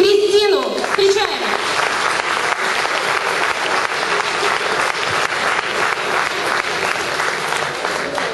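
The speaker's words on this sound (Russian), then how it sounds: "давайте бурными аплодисментами встретим победительницу регионального конкурса чтецов" An audience at a children's poetry recital event bursts into loud, sustained applause to greet a young regional reciting-contest winner, the dense clapping filling the room for several seconds after a brief voice at the start.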